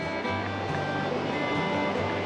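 A river flows beside a pine forest campsite, a steady, fairly loud rushing wash of water that continues without a break.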